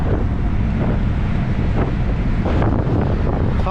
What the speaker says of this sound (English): We're just getting through the headwind section.